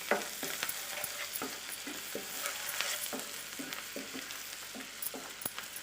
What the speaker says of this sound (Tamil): நான் வந்து பூண்டை வந்து நசுக்கி போட்டிருக்கேன்.